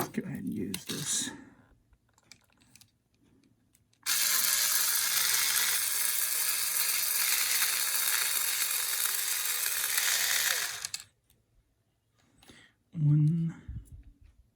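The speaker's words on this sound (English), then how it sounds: "you also need to take off these two screws." A steady, continuous whir of a screw being driven out of an HPI Racing RS4 Sport 3 RC car, lasting several seconds, close by, with brief talk before and after.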